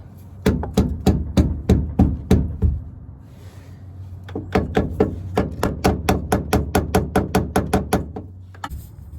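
A hammer strikes metal while working on a Mazda FB RX-7's suspension, a quick, even run of about ten sharp blows, a pause, then a longer steady series of pounding.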